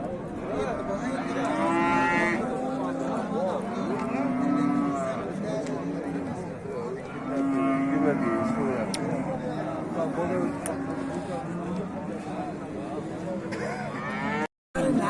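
Cows lowing repeatedly at a livestock market, several long deep moos rising over a crowded backdrop of chatter and an auctioneer's voice.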